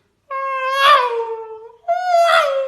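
A voice mimics an F1 race car coming past on a circuit, two drawn-out whining cries, each rising then falling like a car sweeping by a spectator, with a short gap between them.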